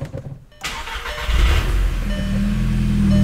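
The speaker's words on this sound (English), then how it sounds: "And now we can start the car." A car engine cranks briefly and catches, then settles into a steady running idle, close and loud after a moment of near silence.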